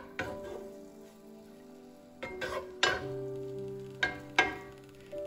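Dharwad peda mixture of paneer being stirred and sautéed in a pan, with a low sizzle and several sharp scraping knocks of the spoon against the pan, close and clear with no talking.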